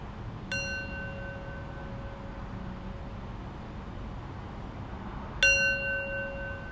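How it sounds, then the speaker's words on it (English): A meditation bell is struck twice, several seconds apart, each strike a clear, close resonant ring with a long, slowly fading sustain over a quiet room. "And now I'll close practice with 3 rings of the bell."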